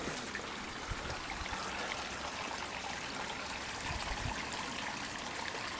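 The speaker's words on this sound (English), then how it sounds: "you can hear from the water running from the pond just how much water, how much rain has fallen" Rainwater gushes steadily from a pond after heavy rainfall, a continuous rushing trickle of running water heard close by, with no voices over it.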